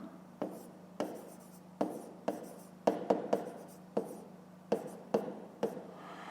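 A pen writes out the working of a fifth-grade math exercise on paper, giving sharp taps and short scratchy strokes in an irregular rhythm, close and fairly quiet.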